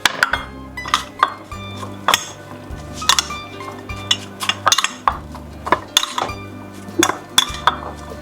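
A spoon mixes a vegan gyros salad with chopped apples in a bowl, making bright, repeated clinks and scrapes against the dish at an uneven stirring rhythm, close and fairly loud.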